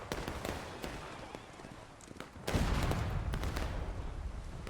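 Artillery barrage in a World War strategy video game, a rapid crackle of distant shots that swells into a louder, heavier rumbling volley partway through.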